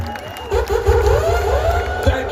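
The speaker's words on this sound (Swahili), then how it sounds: "Tupigie makofi tafadhali." A crowd at Kimorori Stadium breaks into loud, swelling noise of clapping and cheering. A voice rises and falls over the roar for the whole of the short burst.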